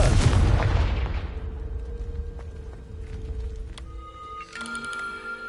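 A loud burst from the Confringo blasting spell hitting a table in Hogwarts Legacy, opening with a heavy explosive boom that fades over a couple of seconds into lingering debris clatter and chiming magical tones.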